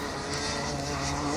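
A go-kart engine on a physically demanding French karting circuit gives a steady, buzzing high-revving drone. The kart comes into a corner and slides slightly, the sound continuous and moderately loud from a short distance.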